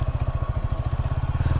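A motorcycle ridden by a woman biker idles close by, its engine throbbing in a steady, rapid low pulse with no voices over it.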